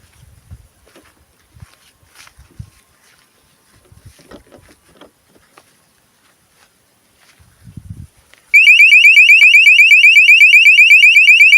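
Quiet clicks and handling noises, then a small battery-powered motion sensor alarm starts, loud and piercing, and keeps sounding in a fast, steady pulsing pattern.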